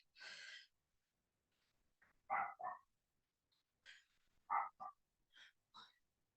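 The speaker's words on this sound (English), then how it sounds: "You can hear the dogs barking." A few dogs bark in short separated bursts, some in quick pairs, faint and at a distance against an otherwise quiet background.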